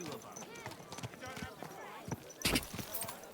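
Horse hooves clip-clopping while riding in Kingdom Come: Deliverance 2, a quiet uneven trot of soft knocks beneath frequent talk from a player, with a brief louder burst partway through.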